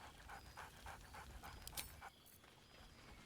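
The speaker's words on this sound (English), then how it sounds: "Scratch barks merrily in something like agreement." Scratch the dog in Baldur's Gate III pants rapidly in a steady rhythm, close and quiet, before a short bright yelp near the end; no one talks.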